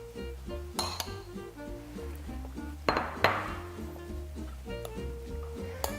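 Salted carrot is mixed with rapé sauce in a bowl, giving irregular clinks and taps of utensils against the dish over a low steady hum.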